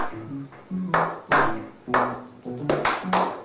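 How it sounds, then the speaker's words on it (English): Several sharp bursts of hands clapping, irregularly spaced and fairly loud, mixed with short tonal chimes during a party quiz-style challenge game. "Clap hands!"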